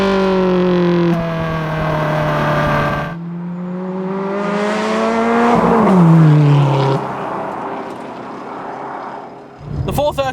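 A Ferrari F430 F1 with an AV Engineering 550 bhp tune revs hard through the gears, its engine note climbing, dropping at a shift, then rising again into a rasping, loud roar before cutting off.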